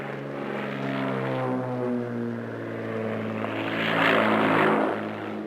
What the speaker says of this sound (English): With landing gear and flaps down, he makes an approach known to pilots as a falling leaf side slip